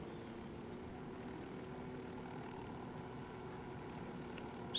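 In-game helicopter cruising in Ghost Recon Wildlands, a continuous low engine and rotor hum held at an even level throughout, with a small knock right at the end and no voices.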